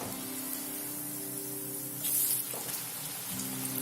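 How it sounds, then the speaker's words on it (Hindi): Onion bhaji fritters deep-fry in hot oil after being turned golden brown, giving a steady rain-like hiss with a brief louder spitting burst midway; no one speaks. "ये दूसरे साइड से भी अच्छा फ्राई हो गया है"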